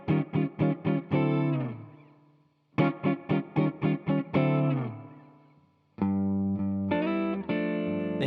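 Distorted electric guitar chords in G, struck in quick staccato hits, a run of short stabs then a held chord, repeated, ending with sustained ringing chords.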